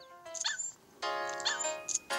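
A virtual puppy in the Nintendogs video game yips and barks in short electronic bursts with whimpering tones, a few clustered calls with brief gaps, close and moderately loud.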